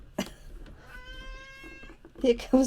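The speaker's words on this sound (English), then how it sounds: "He's our very vocal cat. As you can hear, he's come in for his food." A vocal house cat meows several times indoors, drawn-out tonal cries near the mic, with brief talk and handling noises around them.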